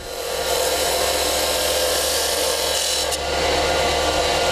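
A wood turning tool cuts a cove into spinning wood on a lathe, giving a continuous close rasping, scraping hiss that holds steady with one brief break near the end.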